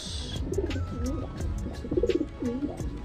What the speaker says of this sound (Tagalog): May kalapati oh.